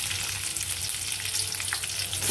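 Garlic and dried chili sizzle in hot oil in a wok, a dense, steady crackling hiss close up with scattered pops and no voices.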